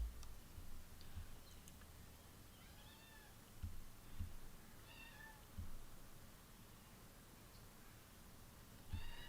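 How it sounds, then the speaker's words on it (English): A neighbour's cat meows faintly in the background, several short, thin cries spread out across a quiet room with soft ticking and low thumps. "Here's the nuisance cat from next door, if you can hear them meowing in the background."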